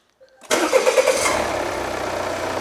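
A Volvo XC90 2.0 bi-turbo diesel engine, rebuilt after a cracked piston, cranks and catches at once, then settles into a steady, fairly loud idle with a low rumble and faint rattling.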